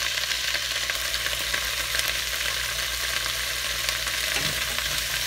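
Onions browning in a pan with tomato paste give a steady, loud sizzle and frying hiss that runs unbroken throughout, with no talking.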